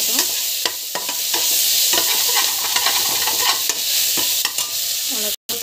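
Steady sizzling of curry leaves and other ingredients sautéing in ghee in a pan for ghee rice, with repeated scraping and stirring strokes throughout, close and fairly loud.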